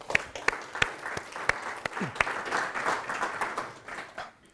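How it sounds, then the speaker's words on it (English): A conference audience gives a round of applause for the organizers, starting with a few sharp, separate claps that build into brief scattered clapping before tapering off. "I think it's only fair to give them a round of applause for organizing this great event"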